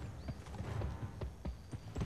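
Horse hooves clip-clopping in the video game Gun, a quick run of distinct thudding footfalls at an even trotting rhythm, close and clear with no talk.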